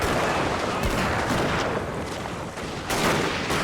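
Gunfire crackles in Shogun 2 Total War as attackers storm a castle on a rainy day, with dense overlapping volleys and booms over a continuous roar of rain and battle noise.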